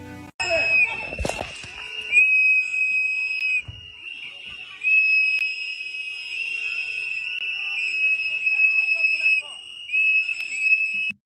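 Shrill, sustained high whistles sound almost continuously, cutting off and resuming in long stretches, with a brief burst of clatter near the start.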